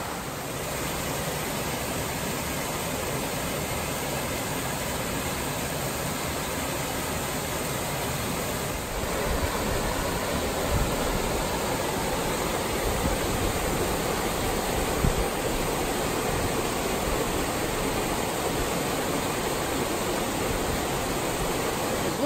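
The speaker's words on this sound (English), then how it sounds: "waterfall coming off of there, kind of deep right there." A waterfall pours into a deep pool on a sunny day, giving a loud, steady, close rush of falling water that fills the whole stretch with no voices.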